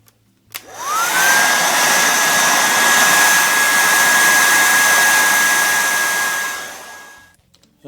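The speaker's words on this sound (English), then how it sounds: "Use the hairdryer to do this." A handheld hair dryer blows hot air onto heat shrink tubing during a Mercedes W204 C-Class headlight halo ring install, starting with a click, whining up to a loud steady roar for about six seconds, then cutting off.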